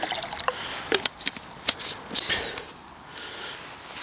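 Water splashes and trickles into a small camping pot outdoors, with a few distinct drips and splashes early on followed by a softer steady dribble, close and fairly quiet.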